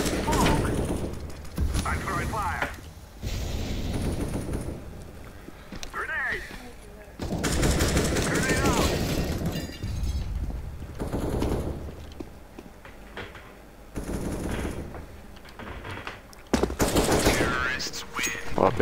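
Bursts of automatic rifle fire and rapid gunshots in the CS:GO first-person shooter, including a T90 rush, come in repeated volleys across the whole stretch, loud and close, under overlapping player chatter.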